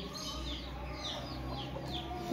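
An aseel rooster at a chicken market in Multan gives a few short clucks and calls amid a constant bed of other fowl, with a voice running faintly underneath.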